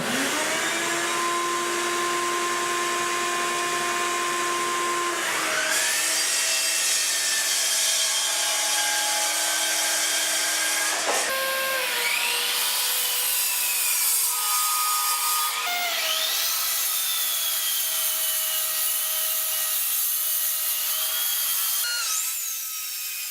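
A power saw cuts hard maple, cherry and walnut boards to length in a shop, each pass rising in a loud, sustained whine that changes pitch as the blade bites, with several separate cuts in close succession.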